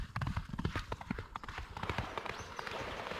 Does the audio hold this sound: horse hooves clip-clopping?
yes